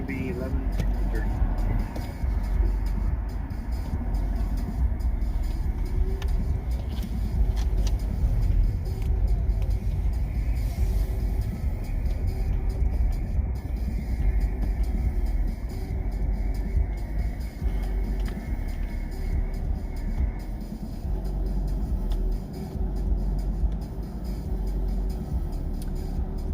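A car pulls away from a drive-thru window, its engine and road noise forming a continuous low rumble that stays fairly even throughout.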